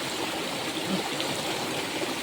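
A small stream of clean water trickles steadily at a hidden spot in a Kokan village, a continuous close, even babble and splash with no pauses and no voices.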